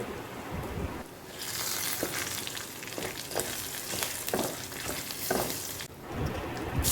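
Dried red chillies, curry leaves, crushed garlic, black pepper and turmeric sizzle and crackle in hot oil in a pan while being stirred for rasam, a continuous close frying hiss with short pauses and scraping stirs.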